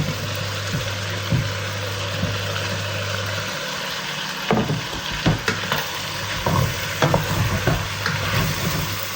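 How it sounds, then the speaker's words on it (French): Onions frying in smen for a Moroccan rfissa sauce, a continuous close sizzle with a low background hum, then the spoon scraping and stirring in repeated knocks around the pan, no talking. "Là, je remue un peu, je vais les laisser fondre un petit peu, 2-3 minutes"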